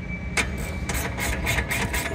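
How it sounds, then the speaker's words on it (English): A 13 mm socket ratchets a bolt tight while fitting a rear sliding shelf on an Ineos Grenadier, a quick run of close, evenly spaced clicks over a low background hum. "this is the perfect time to use that 13 mil socket"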